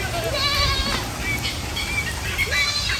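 A goat bleats in a wavering, nasal cry, repeated a few times close by over a low background rumble.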